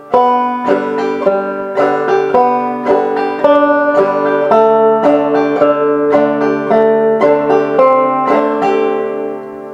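Skip To My Lou rings out on a banjo played clawhammer style, a close, steady run of bright plucked notes and brushed strums with no talking over it.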